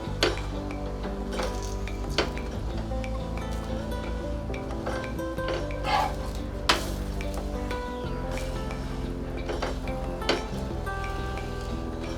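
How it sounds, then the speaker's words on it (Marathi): A palak pudina paratha cooks with ghee on a griddle, a soft sizzle running beneath recurring clinks and scrapes of a spatula, while a steady tonal hum or background music carries through. "असं हलके हलके ताप देऊन व्यवस्थित पराठा सगळ्या बाजूनी शेकून घ्यायचा"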